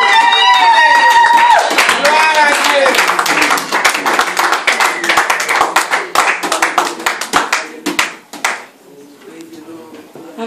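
A church congregation claps along in quick rhythmic bursts that gradually thin out, with sung or chanted voices carrying over the clapping at the start.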